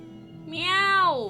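A pet cat named Allie gives one drawn-out meow from behind window blinds, rising then falling, close and fairly loud over a faint background murmur.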